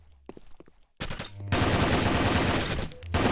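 MX gun fired in a tactical first-person shooter match: a sustained burst of rapid automatic gunfire, loud and dense after a brief lead-in of footsteps and softer noises, with a short pause near the end before firing resumes.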